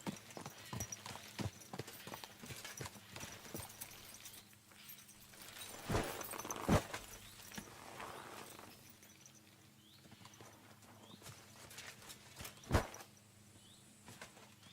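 Horse hooves clip-clop in Kingdom Come Deliverance II, a steady walking rhythm of close, distinct hoofbeats with a few louder thumps and faint ambient birdsong behind.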